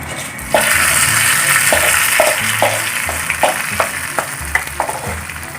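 Hot coconut oil tempering poured into okra sambar, a loud close sizzling hiss that starts abruptly and continues, with light clinks of a ladle against the pot.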